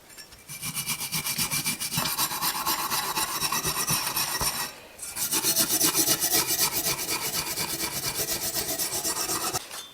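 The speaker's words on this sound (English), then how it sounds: "So I'm going to grab a wire brush" Loud, rapid scrubbing of a wire brush against a rusty fuel filter from a 2006 Honda CBR1000RR, a fast rasping rhythm with one short break midway.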